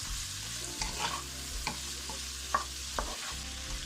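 Carrots go into a sizzling pot for Jamaican steamed cabbage, a steady frying hiss broken by several clicking stirs and scrapes of a spoon against the pot.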